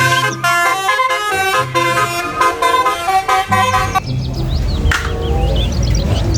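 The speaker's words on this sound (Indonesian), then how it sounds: "Wow, bus telolet warna kuning." A toy yellow telolet bus horn honks a bright, musical melody of several quick toots that is loud and close, then fades into rougher mechanical noise.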